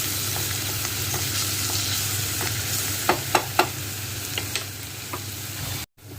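Curry leaves sizzle steadily in hot oil with a broad, continuous crackle, then several sharp spits and pops stand out partway through before a brief drop near the end; no one speaks.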